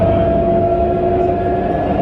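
Barcelona tram rolling into a tunnel, a steady loud rumble with sustained tonal hum and rail noise throughout, no voices.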